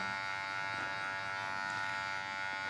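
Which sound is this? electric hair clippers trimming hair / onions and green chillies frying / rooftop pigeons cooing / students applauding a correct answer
electric hair clippers trimming hair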